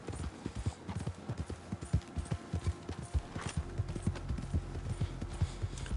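Horse hooves clip-clopping in a Red Dead game, a steady run of sharp close hoofbeats with a faint whinny hinted, over a low rumbling background.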